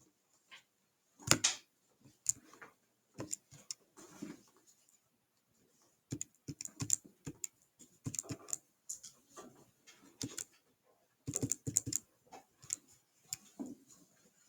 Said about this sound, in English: And then you just plug that in the calculator